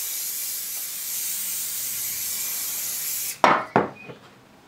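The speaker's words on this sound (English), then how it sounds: "which I'm going to spray liberally" A steady aerosol hiss of baking spray into a brownie tin runs for several seconds, then stops, followed by a few short, sharp spray bursts close by.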